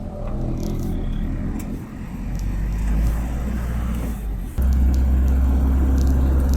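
Heavy road rumble from large trucks on a wide highway surges and dips, then swells louder and closer partway through, with no talking.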